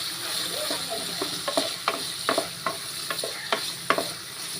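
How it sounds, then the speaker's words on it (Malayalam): Onions with salt sautéing in a pan for an egg curry, the steady sizzle broken by repeated sharp scraping strokes of a spoon stirring, close and moderately loud with no talking. "ഇതിലേക്ക് നമ്മൾ അരസ്പൂൺ ഉപ്പും കൂടെ ചേർത്ത് കൊടുക്കുന്നുണ്ട് ഇത് നന്നായിട്ടൊന്ന് വഴറ്റിയെടുക്കാം"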